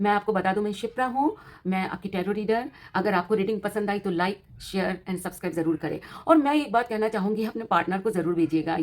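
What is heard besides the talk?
No distinct noise like a dog, phone or traffic.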